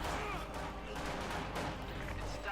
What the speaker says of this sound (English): Instead, just taking shots here from the conscripts out in the open.